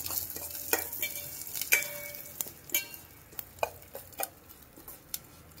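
Fenugreek seeds and urad dal frying in a pan for a Goan bilimbi curry, stirred with a spoon, giving faint soft scraping and light clinks over a low crackle, no voices.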